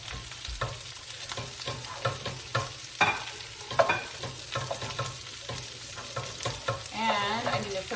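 Asparagus cooking in melted butter in a pan, a close sizzle broken up by frequent stirring scrapes and clacks, with a brief higher whine near the end and no talking.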